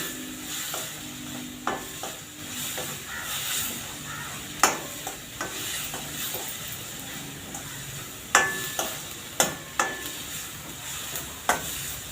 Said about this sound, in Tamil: நல்லா அந்த மசாலா வாடை போகிற வரைக்கும் நல்லா கிளறி விட்டுக்கலாம்.